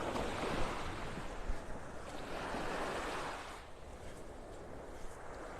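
Surf washes onto Vanderbilt Beach in North Naples, Florida, a steady broad rush of waves with wind buffeting the microphone, fading slightly toward the end.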